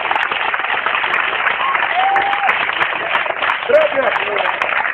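A church congregation applauds in worship, a steady, dense wash of clapping that holds evenly throughout, with voices mixed into the crowd noise.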